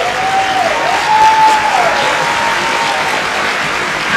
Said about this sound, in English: we're going to give them another round of applause.